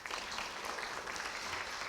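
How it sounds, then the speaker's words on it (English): Audience applause at an arts center event thanking sponsors, a dense patter of many hands held at a steady level, somewhat distant. "Please give them a round of applause."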